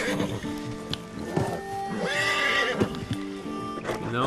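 A horse in Red Dead Redemption 2 whinnies loudly and close, a shaky rising-and-falling neigh over soft hoof clops and snorting.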